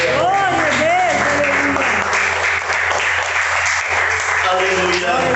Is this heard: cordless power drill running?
no